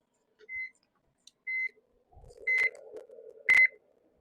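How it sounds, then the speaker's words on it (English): A kitchen timer sounds four separate short electronic beeps at about one-second intervals, the last two louder, while a low muffled rumble of handling or movement runs underneath. "I have a timer going off here."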